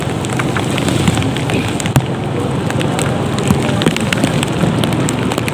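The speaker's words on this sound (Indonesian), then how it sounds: "Hujan tidak reda-reda" Heavy rain pours steadily, a dense hiss of drops drumming on a surface with occasional sharper splats, constant and close with no voices.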